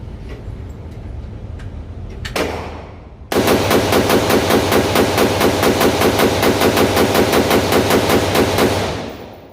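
JP Enterprises AR15 rifle fired on a shooting range in a long, rapid string of evenly spaced loud shots after a short lone burst, the reports running nearly nine seconds before tapering off.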